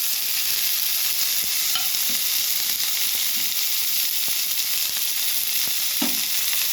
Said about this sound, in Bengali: পেঁয়াজ রসুনটা ভাজা হয়ে গেছে, এবারে কাঁচা লঙ্কা, আদা, টমেটো সব দিয়ে দিলাম।